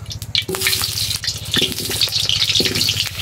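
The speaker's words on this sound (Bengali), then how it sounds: "আর আলুগুলো ভেজে নেব।" Potato pieces fry in hot oil in a wok with a continuous crackling sizzle, broken by a few brief stirring or scraping moments over a low steady hum.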